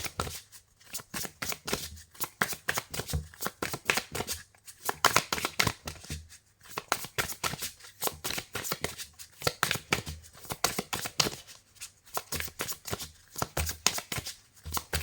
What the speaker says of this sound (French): Allez, on va mélanger d'abord pour les taureaux.